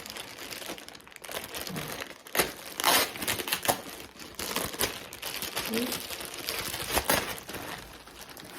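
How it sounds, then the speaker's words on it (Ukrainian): An individual plastic package holding a cosmetic bag is torn open, giving steady crinkling and rustling with sharper tearing bursts, close and fairly loud, with no talking. "Приходить в індивідуальному пакеті. Зараз ми його вскриємо разом."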